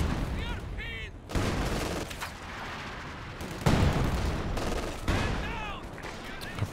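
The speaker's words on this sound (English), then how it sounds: "he's going to line up for his resist barrage, try to clear out the machine gun long range here" Company of Heroes 2 gameplay: rocket barrage booms and rapid machine gun fire rattle in dense, overlapping bursts, with a voice commentating over the combat.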